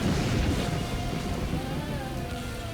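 Steady rain-like hiss fills the whole stretch at an even level, a dense wash of drops with a faint low rumble underneath and no voices over it.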